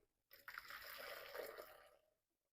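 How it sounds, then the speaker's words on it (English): Hot water is poured into a pot of Nigerian fried rice, a short soft splash and trickle that lasts under two seconds. "I'm going to pour some hot water"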